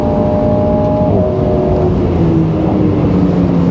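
An Alpine A110 S 2022 sports car on a track, with ESP in Track mode, accelerates with a loud, continuous engine roar. The pitch of the engine note climbs and shifts as the car pulls hard, heard close up with no voices.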